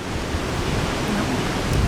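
Roaring rush of the Krimml Waterfalls in Austria, a steady broadband wash of falling water heard up close on a climb, loud and unbroken with some wind buffeting the microphone.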